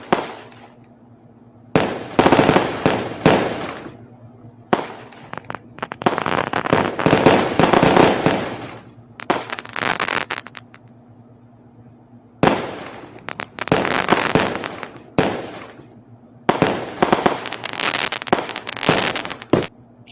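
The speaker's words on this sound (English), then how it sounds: "I do love fireworks." Independence Day fireworks bursting in repeated loud volleys, each crackling barrage lasting a second or two and separated by short pauses, with dense popping and crackle throughout and no talk.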